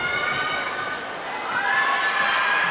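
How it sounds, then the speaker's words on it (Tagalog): A volleyball arena crowd at a professional women's match cheers steadily for a favourite player, a continuous roar of shouts and whistles that swells toward the end. "we hear the crowd, one of the favorites here, appreciating her"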